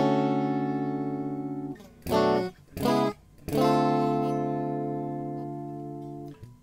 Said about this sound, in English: But we've got a little intro riff, which sounds like this.